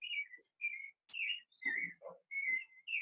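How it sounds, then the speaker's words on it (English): Birds chirping outdoors, a series of clear whistled calls and tweets in short bursts with pauses between, fairly close and alone without talk. "I don't know whether you hear the birds."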